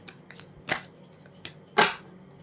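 Tarot cards being handled and shuffled, a few soft papery riffles and flicks spaced out over a couple of seconds, close and quiet with no talking.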